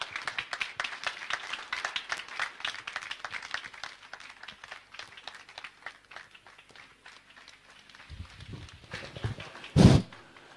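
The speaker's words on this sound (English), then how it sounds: "Keep clapping, keep clapping," A church audience at a university grand opening claps in a scattered, steady patter that gradually thins, followed by a couple of low thumps and a brief loud burst near the end.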